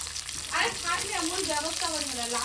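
Fish sizzles in a kitchen pan, a close steady frying hiss with bubbling crackle, while people talk over it.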